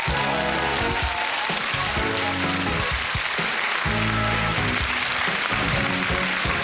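A studio audience at a game show applauds a contestant as he joins the host, a loud, continuous wash of clapping that fills the whole stretch, with music underneath.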